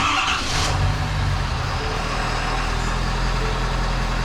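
A Ford Super Duty diesel truck engine settles into a steady, loud idle with a low rumbling drone, after a brief burst of noise at the start, with no voices.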